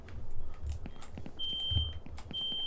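High electronic fire alarm tones sound twice in the second half, steady and piercing over rumbling background noise and scattered thumps.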